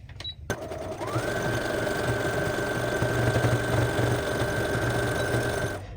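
Sewing machine stitching the fabric of a small soap pouch, a steady close whirring motor hum with rapid needle clatter running continuously after a brief click at the start.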